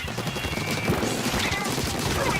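A barrage of curling bombs explodes in the video game Splatoon 2, a dense run of crashing, popping bursts packed close together, with speech over it.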